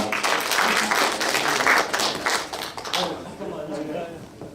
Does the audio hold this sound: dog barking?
no